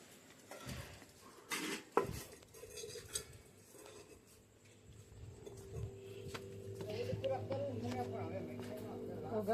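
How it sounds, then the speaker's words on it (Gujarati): Dishes, pots and utensils being scrubbed by hand outdoors at home, with intermittent clinks and clatters of metal vessels at first, then steadier rubbing and running-water noise, faint and mid-distance, with voices talking in the background. "મમ્મી વાસણ ઘસે છે"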